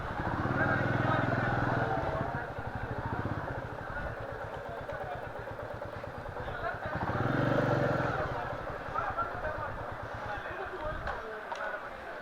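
Motorcycle being wheeled and maneuvered on a Bangalore street, its engine running steadily at close range throughout, with a brief throttle swell in the middle, under people talking and street chatter.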